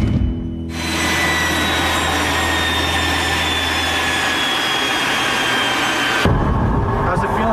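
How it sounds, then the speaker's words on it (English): The turbine engine of the GM Firebird prototype car, a jet-aircraft-inspired turbine-powered automobile, roars with a loud, steady high-pitched whine and rushing exhaust that holds for several seconds before cutting off abruptly. "As a prototype for a turbine-powered car, the first Firebird was a rousing success."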